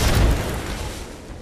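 Frag grenade blast in Apex Legends, a single heavy low boom up front that slowly decays into a rumbling tail, with no voices over it.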